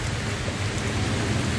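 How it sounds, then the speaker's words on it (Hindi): Heavy monsoon rain pours down steadily in a dense, loud hiss of drops drumming on surfaces, continuous and close with no voices. "आपने देखा यार कितना ज़्यादा बारिश हो रही है"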